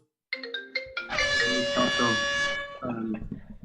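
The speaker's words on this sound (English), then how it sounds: "As soon as the phone goes, the air horn also goes." A loud, blaring air horn sounds for over a second during a Mafia party game, preceded by short electronic phone beeps and followed by fading tonal blips, no talking.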